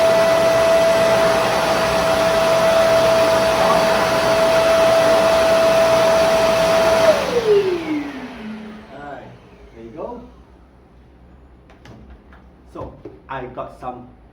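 A MAG 3 in 1 wet and dry vacuum cleaner runs with a steady loud whine for about seven seconds, then winds down as its pitch falls, followed by quieter handling clatter and a few soft knocks.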